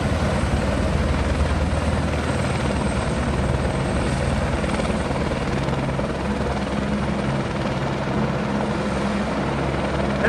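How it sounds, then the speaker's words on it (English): A helicopter comes in over the Grand Canyon, its rotor a loud, steady, close thrum with continuous engine noise filling the whole stretch, and no talking. "we just heard the helicopter coming in"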